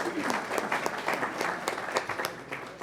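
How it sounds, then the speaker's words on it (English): A crowd applauds steadily, many hands clapping at once in a dense, even patter that holds for a few seconds, heard from within a room. "let's give him a round of applause"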